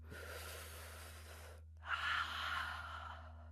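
Deep yoga breathing during a core class: one long, soft inhale, a short pause, then a fuller, stronger exhale, close and quiet over a steady low hum.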